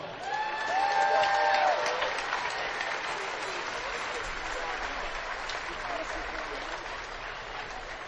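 A gym crowd applauds senior players after a high school girls' basketball game, with sustained clapping and some cheering, loudest early and then tapering slightly. Speech is mixed in over it.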